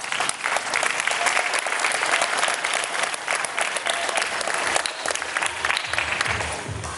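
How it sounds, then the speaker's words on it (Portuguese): A long round of applause fills a church service, many hands clapping steadily and densely throughout, loud and close, with faint voices underneath. "salva de palmas."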